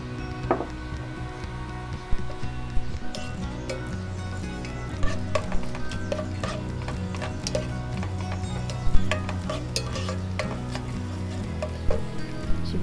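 Burong rice, Kapampangan fermented rice, being sautéed in a pan, with soft crackling sizzle and irregular spatula taps and scrapes, close and moderately quiet, no talking.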